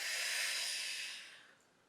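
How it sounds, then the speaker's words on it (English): Breathing out during a Pilates exercise, one soft, long airy exhale close to the ear that fades away after about a second and a half, no talking. "Nice big inhale. And exhale."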